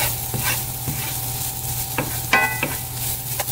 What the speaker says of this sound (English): I'm going to continue to stir this so that the garlic doesn't get too bitter and the onions start to tenderize.